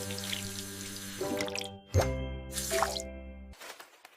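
Water runs from a tap into a sink during hand washing, with a steady flow, a distinct plop partway through and dripping splashes before it cuts off.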